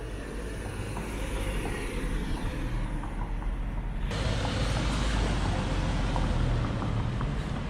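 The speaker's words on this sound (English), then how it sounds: "There's a car behind us, so get out the way." A car engine rumbles steadily behind people walking outdoors after dark, a low, continuous drone that grows a little louder partway through, close and constant.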